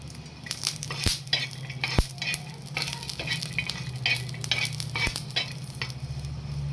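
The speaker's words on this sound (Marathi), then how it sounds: "हा लसण आपण थोडासा गरम करून घेणार आहोत" Steady sizzling of garlic in a hot pan, with occasional clinks and scrapes of a utensil stirring against the metal.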